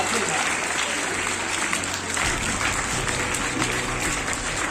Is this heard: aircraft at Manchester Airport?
no